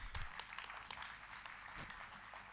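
An audience claps at an international Arya conference hall session. The applause is a dense, steady patter of many hands and sounds distant and fairly quiet throughout.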